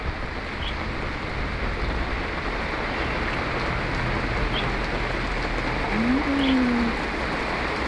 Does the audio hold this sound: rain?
yes